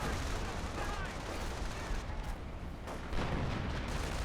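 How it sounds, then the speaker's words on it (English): Artillery fire in the Company of Heroes strategy game: dense, rumbling explosions and gunfire crackle in a continuous loud battlefield wash, with a heavier impact near the end. "here comes the artillery"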